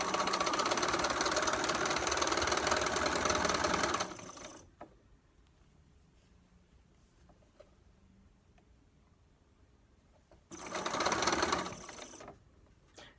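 A sewing machine stitches fabric in a fast, loud, close run of about four seconds, falls quiet for several seconds, then runs again in a shorter burst, with no talk.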